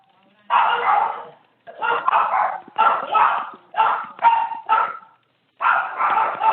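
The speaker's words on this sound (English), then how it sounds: "I hear the dogs barking" Dogs barking in repeated bursts, fairly close and loud, separated by short gaps, with an agitated, muffled quality; no speech is audible over them.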